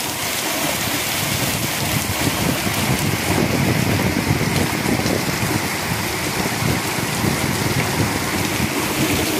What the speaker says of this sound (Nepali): धेरै विगत धेरै अन्तरालपछि पानी परेको आज